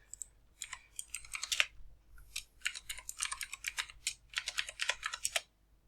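Typing on a computer keyboard to log in as root in a PuTTY terminal: quick, close bursts of keystrokes in uneven runs with brief pauses between them, fairly quiet and alone.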